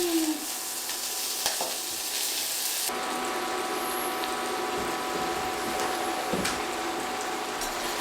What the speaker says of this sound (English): Now we're gonna be adding in our butter.